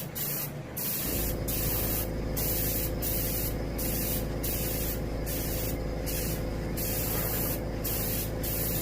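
A continuous hiss of airbrush spray paint on a striped bass fish mount, with steady pulsing interruptions as the spray is released in short bursts, close and loud.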